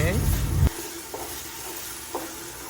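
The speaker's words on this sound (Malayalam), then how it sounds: "പിന്നെ ഇഞ്ചിയും വെളുത്തുള്ളി ചതച്ചത് പേസ്റ്റ് തക്കാളി അരച്ചെടുത്തത് ഇടയ്ക്കിടയ്ക്ക് ഇതുപോലെ നന്നായി വഴറ്റണ്ടോ" Ginger-garlic paste and ground tomato sautéing for mutton madhooth, with a brief spoken voice at the start, then a soft sizzle and a couple of light scrapes from stirring.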